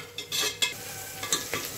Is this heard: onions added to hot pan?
yes